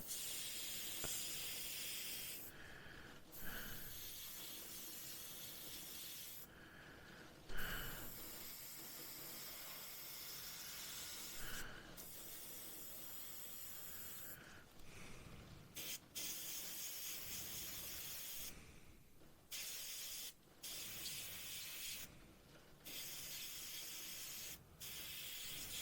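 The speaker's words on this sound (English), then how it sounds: "Now we can be reasonably accurate with this airbrush" An airbrush sprays paint onto the cab interior of a Hobby Boss M1070 Oshkosh HETS scale model truck, in repeated hissing bursts separated by short pauses; close and steady.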